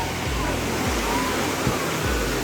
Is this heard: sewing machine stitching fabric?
no